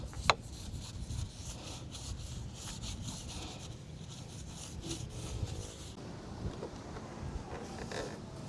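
Wind buffets the microphone in a steady low rumble, with occasional faint scraping or rubbing sounds; no one speaks.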